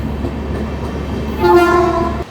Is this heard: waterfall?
no